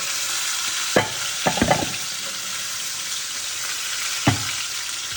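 Oxtails sizzling steadily in a hot pan as they are flipped, a constant frying hiss broken by a few sharp clatters and scrapes as pieces are turned.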